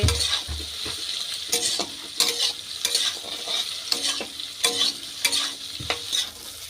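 Soybean chunks fry and sizzle in a wok while a spatula stirs and scrapes them in repeated clattering strokes, the steady crackle of hot oil running underneath, close and fairly loud with no talking.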